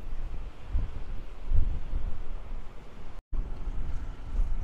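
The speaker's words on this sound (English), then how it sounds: "Man, it's windy" Steady wind buffets the microphone with low, gusty rumbling throughout, briefly cutting out near the end before resuming.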